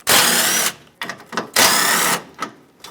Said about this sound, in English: There are two 10mm bolts holding this hood latch onto the upper support here. Remove them both.